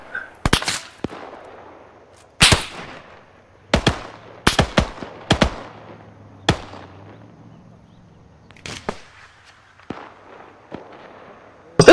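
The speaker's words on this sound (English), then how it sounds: "Grenade." Explosions and sharp blasts from the combat game ArmA, including a grenade detonation, several loud impulsive bangs spread irregularly across the span with decaying rumble between them and a low hum in the middle.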